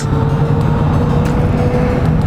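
A Lifan KP Mini 150cc motorcycle engine roars steadily at full throttle, held at high revs, continuous and close, with rushing wind noise and no talking.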